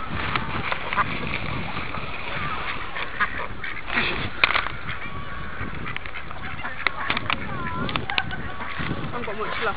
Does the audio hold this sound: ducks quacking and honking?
yes